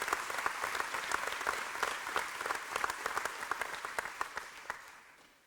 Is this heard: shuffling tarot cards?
no